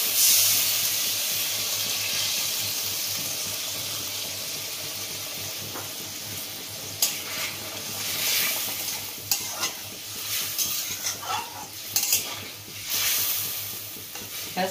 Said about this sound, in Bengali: আমি জলের পরিবর্তে এবারে নারকেলের দুধটা দিলাম।